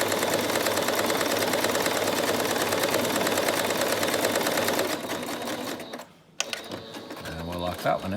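A sewing machine stitches a cosmetic line on a piece of cloth with a fast, even mechanical chatter for about five seconds, then slows and stops, leaving a few quieter clicks and handling noises.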